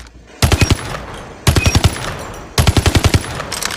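Automatic fire from the VARGO-S gun in a shooter game's training mode comes in three loud, close bursts of rapid rounds, each about half a second long, with short pauses between them.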